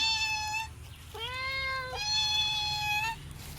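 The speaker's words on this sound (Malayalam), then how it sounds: "ഈ മണ്ടി പൂച്ച" A cat meows three times in a row, close and clear, each call drawn out, against a low steady background hum.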